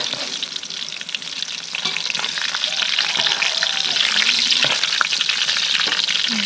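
Pork pieces frying in hot oil until golden, a loud continuous sizzle and crackle close up, with occasional faint clinks of a utensil in the pan.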